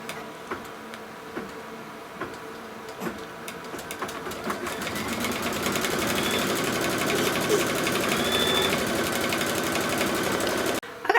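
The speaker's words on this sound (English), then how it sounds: "And now it's gonna stitch the quilting." A computerized embroidery machine stitches quilting in medium green thread, a steady rapid mechanical whir and ticking needle rhythm that builds slightly louder and runs continuously nearby before stopping abruptly near the end.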